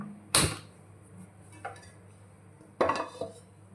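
A wide metal cooking pot handled on a stove for chicken fry, two sharp metallic clanks about two seconds apart with a softer knock between them, close and otherwise quiet.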